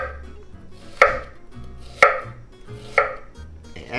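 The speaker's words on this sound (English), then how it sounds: "now we can start with the onion. And I slide like this" An onion being sliced with a knife for a summer pasta salad: three sharp, evenly spaced chops on a cutting board about a second apart, close and crisp, with quiet handling in between and no voices.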